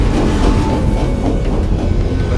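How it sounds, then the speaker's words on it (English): A train rolls overhead in the Night in the Woods video game, a loud, continuous low rumble with faint rhythmic rail clatter and no speech. "Let the train pass over you."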